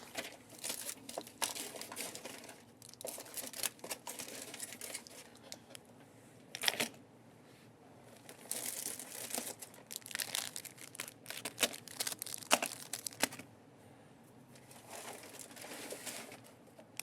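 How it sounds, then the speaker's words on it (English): Disney cruise pins being dug out of their packaging, with faint, scattered crinkling and rustling of plastic and card in bursts, quiet and close, no talking. "I'm going to start digging the pins out. Here they come."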